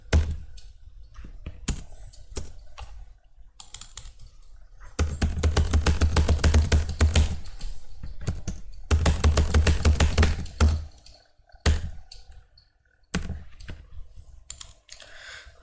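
Computer keyboard being typed on to enter an Aadhaar number, clusters of quick close clicks with denser rapid bursts and brief gaps between them, no speech.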